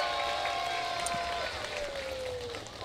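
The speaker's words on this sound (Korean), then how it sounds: "우리 루클런트의 무대가 여러분들 마음에 들었다면 큰 박수를 부탁을 드리겠습니다" Audience applause at an outdoor youth dance contest during a spring flower festival in Ulsan, a steady wash of clapping and crowd noise at moderate distance, with a tonal sweep running through it.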